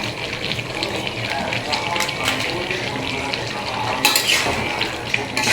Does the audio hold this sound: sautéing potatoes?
yes